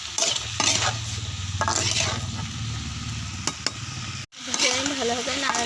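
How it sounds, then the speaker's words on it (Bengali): Raw onions and chili fry in a pan while being stirred, with a steady sizzle and repeated scraping strokes. A voice talks over the cooking toward the end. "নাড়াচাড়া করে নেব।"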